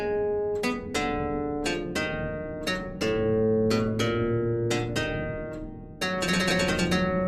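On keyboard, the jig subject from Bach's sixth partita sounds in inversion: a lively sequence of bright, sharply attacked plucked notes in a springy rhythm, near and unaccompanied.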